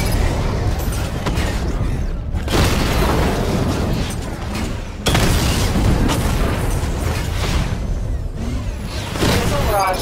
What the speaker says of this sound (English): I need to power up the secondary weapon to level 2 before firing.